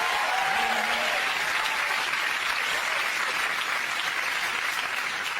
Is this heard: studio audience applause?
yes